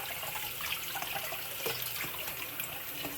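Cold tap water runs steadily into a sink as tilapia fish is rinsed, a close, continuous splashing hiss with small irregular splatters and no talking.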